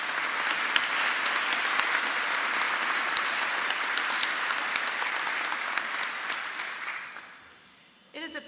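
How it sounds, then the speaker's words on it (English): Steady applause fills a university commencement ceremony for faculty award winners, a broad even clapping from a large audience that holds for about seven seconds before fading away, followed by a brief burst of sound at the end. "Could we have one more round of applause for our faculty award winners?"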